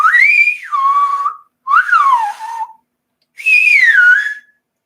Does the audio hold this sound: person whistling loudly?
yes